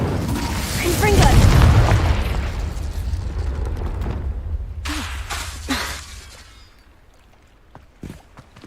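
Confringo blasting spell in Hogwarts Legacy: a loud, rumbling explosion swells early and fades into a crackling, debris-filled tail, followed by a few sharper bursts and pops further on.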